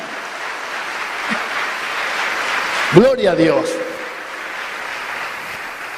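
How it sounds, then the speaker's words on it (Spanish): A church congregation applauds the Lord during a sermon, a steady wash of clapping that runs throughout. Midway, a voice briefly calls out over it. "dale un aplauso al Señor, no te quedes con las ganas"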